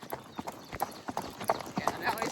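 Hooves of an off-the-track racehorse clip-clopping along a training trail ride, a steady close rhythmic beat of footfalls under a rider talking.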